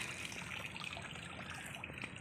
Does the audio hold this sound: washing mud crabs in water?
yes